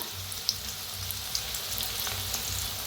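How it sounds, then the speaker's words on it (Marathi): Onion fries in a pan with garlic and masala, making a steady close sizzle dotted with a few light clicks and pops, with no talking. "कांद्याला चांगलं भाजून घेऊया"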